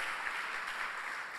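A church congregation claps steadily, a dense wash of applause heard from a distance, with no voices standing out.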